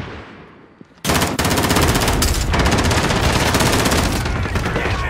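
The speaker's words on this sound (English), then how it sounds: "Oh, he's shooting people." Loud, sustained automatic gunfire erupts suddenly in Warzone after a quiet moment, a rapid continuous rattle of shots filling the rest of the stretch close and dominant, with no talking over it.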